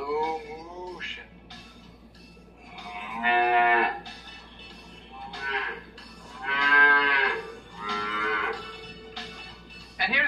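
A cow mooing sound effect plays as several long, drawn-out moos rising and falling over a steady low hum, with no speech.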